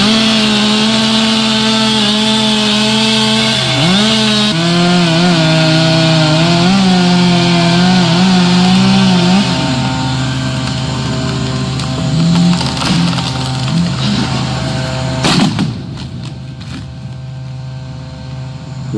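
A chainsaw drones loudly and steadily while cutting a large ash tree, its pitch shifting as it bites. Near the end a sharp crack and crash mark the trunk coming down, and the saw falls away.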